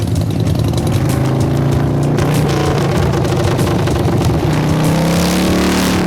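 A custom-built motorcycle from a biker build-off rides for the first time, its engine a loud, steady rumble that holds a continuous low drone with shifting revs and no talking throughout.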